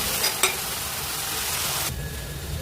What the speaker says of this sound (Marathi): आता याला 2 मिनिटं छान परतून घेऊया